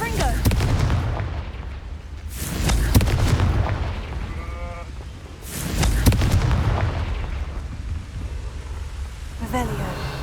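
Fiery blasts of the Confringo spell in the Hogwarts Legacy video game at a goblin camp, two big booming bursts near three and six seconds over a rumbling battle bed with game voices and effects between them.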